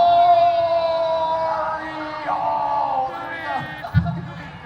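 A fairground crowd at Spookala, a Halloween event at the Florida State Fair Grounds, chants a name in loud unison, drawn-out shouts that swell and fade over an amplified voice, ending with a sharp burst.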